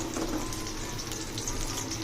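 Onion frying in a pan until reddish for a stinging catfish curry, a faint continuous sizzle with no talk.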